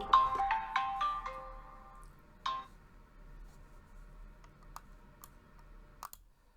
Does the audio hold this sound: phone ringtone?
yes